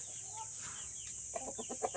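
Light Sussex chickens on a farm with Rhode Island hens nearby give a series of short, rhythmic clucks that build toward the end over a steady background hiss, moderately close and without talk.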